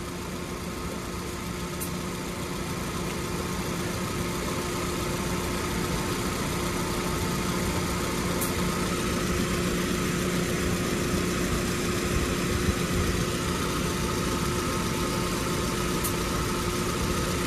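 A 2005 Toyota Corolla idles with the air-conditioning compressor clutch engaged, giving a steady, quiet, even hum with a few faint ticks and no talking.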